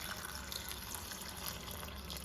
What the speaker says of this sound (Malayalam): ഇനി ഈ കഷ്ണം മുങ്ങിക്കിടക്കത്തക്ക രീതിയിൽ നമുക്ക് വെള്ളം ഒഴിച്ചു കൊടുക്കാം